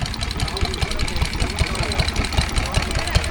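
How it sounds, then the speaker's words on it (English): A Lister D stationary engine at a rural show runs steadily close by, giving a fast, regular knocking beat at a loud, even level with no break. "So first one we see is a Lister D,"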